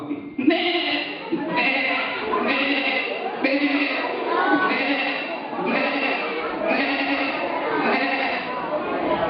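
A person imitates a goat's bleat in repeated wavering cries, loud and close, one after another in a steady rhythm.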